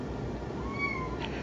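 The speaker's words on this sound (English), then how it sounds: "Here is Trigg meowing, which is like a mouse squeak." A Ragdoll cat gives a thin, high, squeaky meow like a mouse squeak, a single faint rising-and-falling call over a low, steady background hum.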